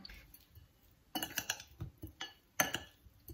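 A small spoon clinks against a dish while mixing quail eggs with pepper, giving a few scattered, close chinks and scrapes in bursts over a quiet background.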